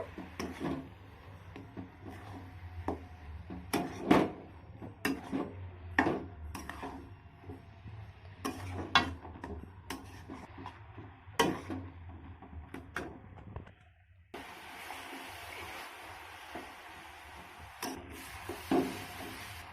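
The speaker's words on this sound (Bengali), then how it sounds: "এবার খুন্তির সাহায্যে ভালো করে নারকেল কোড়ার সঙ্গে মিশিয়ে নেব" A spatula scrapes and knocks against a pan while grated coconut filling is stirred, giving irregular sharp taps and scraping strokes over faint background hiss, close and moderately quiet.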